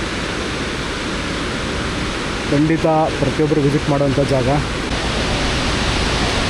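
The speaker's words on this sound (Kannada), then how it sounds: "ಅಲ್ಲಿಂದ ಬರ್ತಾಯಿದೆ ನೀರು. ಅಲ್ಲಿಂದ ಸೀದಾ ಬಂದು ಈ ಲೆವೆಲಿಗೆ ಬೀಳ್ತಾ ಇದೆ ಫುಲ್ ಸ್ಲೋ ಮೋಷನಲ್ಲಿ." Unchalli waterfall in Karnataka, water falling from a height, a steady broadband rush that runs throughout, with a person speaking briefly over it in the middle.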